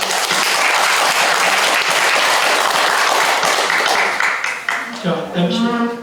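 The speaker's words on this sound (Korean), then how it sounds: "자, 박수로 끝냅니다." At a seminar held by a National Assembly press club, dense, loud audience applause fills most of the clip. It thins out toward the end as a voice comes in over the last claps.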